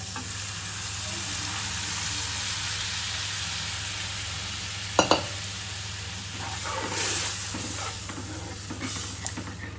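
Dal for Gujarati dal dhokli hits a hot pot and sizzles steadily, a close, continuous frying hiss with a couple of brief clinks midway.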